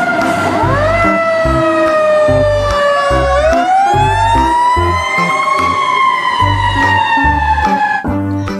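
Toy fire truck siren wailing loudly and close, a rising and falling electronic tone over a chunky repeating beeping rhythm, continuous for several seconds with no talking.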